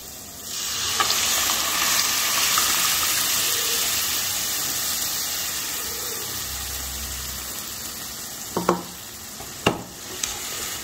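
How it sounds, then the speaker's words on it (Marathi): Cooked dal tipped into a hot, sizzling tempering of spices, giving a steady loud sizzle and frying hiss with a few sharp stirring clanks near the end. "त्यात आपण आता शिजवलेली डाळ टाकणार आहे."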